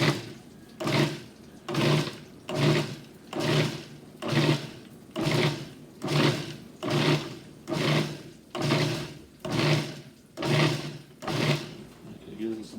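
A food processor pulses basil for pesto in about a dozen short, evenly spaced bursts, each a loud whir that starts and stops, with a person talking between them.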